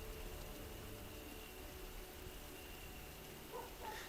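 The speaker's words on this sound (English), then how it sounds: "Let's get out of this rain." Steady, faint rain hiss in a Dragon Age game scene, continuous and even, with a brief tonal sound near the end.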